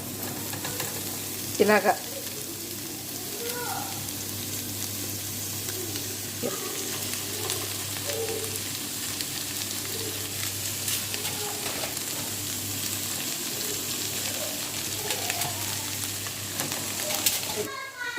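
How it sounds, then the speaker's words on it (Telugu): Chicken tipped into onions fried golden in a hot pan for an Arabic-style chicken dish, hissing and sizzling steadily throughout with occasional stirring clinks, as a voice talks briefly. "ఆనియన్స్ బస్సాలో వేగిపోయాయండి. ఇప్పుడు చికెన్ వేసుకుందాం."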